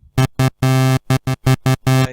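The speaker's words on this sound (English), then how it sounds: "if we had a square wave" A synthesizer plays a buzzy, hollow square-wave tone in a series of clipped notes, some short and some held, with a loud even level and crisp starts and stops.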